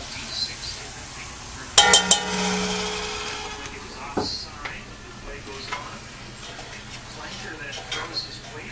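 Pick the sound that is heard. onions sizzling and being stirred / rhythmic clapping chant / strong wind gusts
onions sizzling and being stirred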